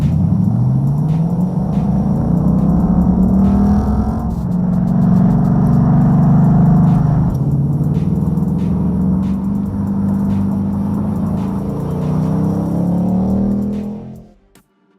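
A 2018 Ford Mustang Bullitt limited-edition sports car engine, a loud, deep V8-style rumble with rising and falling revs, sustained close up before cutting off abruptly at the end.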